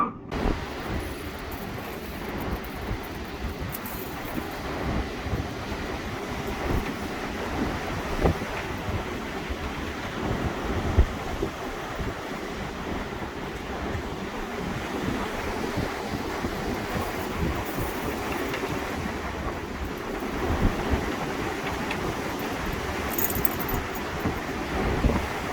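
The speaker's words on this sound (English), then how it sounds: "It's a tremendous wind." Strong gusts of 60 mph wind buffet a walipini, an underground greenhouse with a plastic covering, outdoors: a steady, loud, broadband roar with surging swells runs the whole time, and no one speaks.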